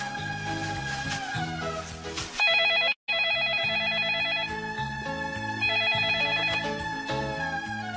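A telephone rings in the morning with a repeating electronic ringtone pattern, fairly loud and close, broken by one brief gap partway through, with no one speaking.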